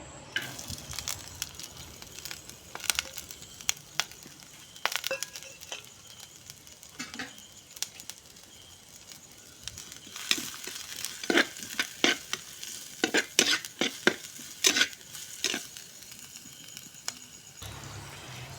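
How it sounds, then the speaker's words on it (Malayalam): Cut shallots, garlic and green chilli fry in hot coconut oil, a close, crackling sizzle with scattered sharp pops and the occasional scrape of stirring, loudest in bursts toward the end. "ഇനി ചൂടായ വെളിച്ചെണ്ണയിലേക്ക് ചെറിയുള്ളി വെളുത്തുള്ളി പച്ചമുളക് കട്ട് ചെയ്തത് ഇട്ട് കൊടുക്കുകയാണ്"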